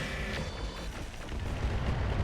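Airstrike explosions in the RogueTech (BattleTech) video game make a continuous heavy booming rumble with dense low-end blasts that hold steady and swell slightly toward the end.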